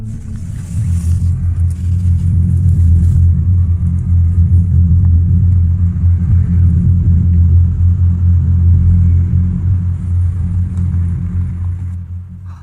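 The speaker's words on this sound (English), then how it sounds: "Valerie was sleeping when she suddenly heard a car" A car engine rumbles steadily and loudly at night, a low drone holding nearly constant throughout with no voices.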